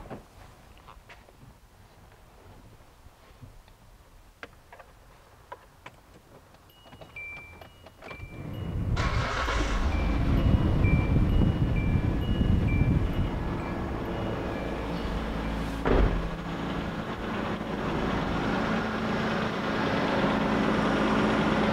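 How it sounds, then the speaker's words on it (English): A 2004 Hyundai Sonata engine cranks and catches, then settles into a steady, loud idle with a constant low rumble that continues to the end. "We'll start the car up and then we'll turn the AC on."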